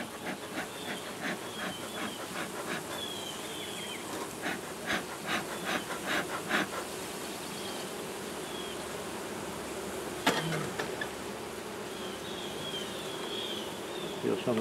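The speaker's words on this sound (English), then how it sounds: "Let's see if we can get a few of these bees off without hurting them." Honeybees buzz steadily and close by in a dense swarm around a hive, with a few sharp knocks and scrapes breaking through the drone.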